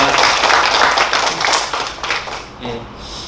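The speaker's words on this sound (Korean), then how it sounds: "우리 하나님께 먼저 영광의 박수 올려드리겠습니다" A church congregation at a Korean Sunday service claps together in a dense, steady burst of applause that fades out after a few seconds, with a voice heard briefly around it.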